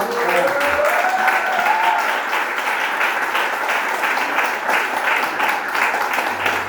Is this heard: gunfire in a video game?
no